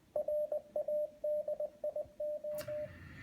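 Morse code sent over ham radio: a steady mid-pitched tone keyed in short dots and longer dashes at a quick, even rhythm, clear and close, ending with a brief burst of static.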